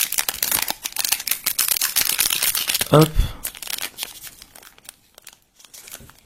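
Foil crinkles and rips loudly up close as a Star Wars TCG booster pack is torn open by hand without scissors, with a brief spoken word midway before the rustling fades.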